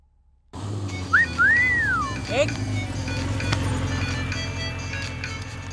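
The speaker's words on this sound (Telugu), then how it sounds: "ఎవరో ఫోన్ రా." A phone rings with a short swooping electronic melody of a couple of rising and falling whistle-like tones, heard over a steady low room hum in an indoor scene.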